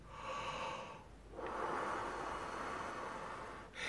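Slow, deep inhalation through the nose during a guided breathing exercise, a long airy rush of breath, close and fairly soft, heard alone without talk.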